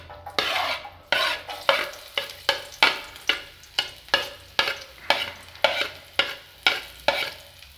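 Garlic being stirred in a hot pan for a salsa while making a Mexican discada of beef and pork, with about a dozen steady, rhythmic scraping stir strokes over a continuous sizzle, close and alone.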